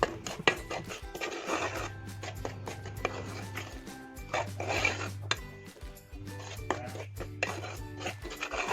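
Rice flour roasting in a pan on a gas stove, with a spatula scraping and clattering against the pan in an uneven, repeated rhythm over a low steady hum.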